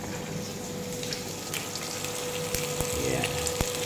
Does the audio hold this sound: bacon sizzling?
yes